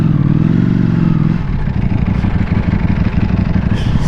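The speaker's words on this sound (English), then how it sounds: "my bike just cut out there." Motorcycle engine running with a steady harmonic drone that abruptly drops away after about a second and a half, leaving rough low rumbling and clattering road noise, loud and close.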